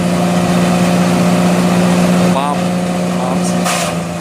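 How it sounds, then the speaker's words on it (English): A chipping machine grinds and pulverizes piles of dried coconut palm fronds, a loud, continuous engine drone with a steady low hum, close up and unbroken, with a brief tonal change midway. "We are now getting them chipped and pulverized with this machine"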